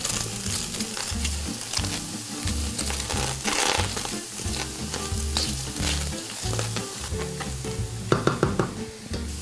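Shrimp and tofu with napa cabbage frying and caramelising in a hot pan, a loud continuous sizzle with stirring and scraping, a few sharper clatters near the end, no voices.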